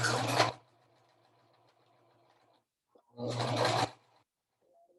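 A sewing machine back stitches a fabric face mask in two short, buzzing bursts, close and fairly loud, with a quiet pause and soft handling noises between them.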